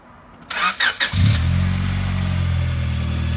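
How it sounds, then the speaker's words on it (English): A car engine cold-starts after a few cranking bursts, catching and settling into a steady, loud idle close by, with no talking. "Quick little cold start."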